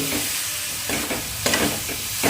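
Condensed milk being stirred into a coconut laddu mixture in a pan, with scraping, sticky stirring strokes over a faint sizzle, close and fairly loud.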